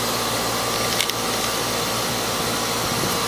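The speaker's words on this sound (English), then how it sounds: "Sorry for the fan." An electric fan runs indoors with a steady broadband whoosh and hum, loud and continuous throughout, with no other sound standing out.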